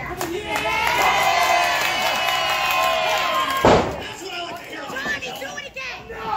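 Pro wrestling crowd at an indoor show cheering and shouting loudly, with a sharp slam-like impact midway, chatter throughout and a voice heard over the noise.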